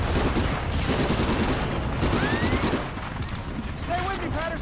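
Sustained rapid machine gun fire and battle noise from a PlayStation 2 war video game, dense and continuous throughout, with whistling effects and shouted voices underneath.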